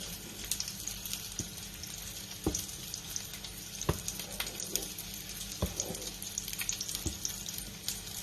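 Tomato sauce spitting and meatballs frying in a pan, a busy continuous sizzle with sharp pops and splatters scattered throughout at close range.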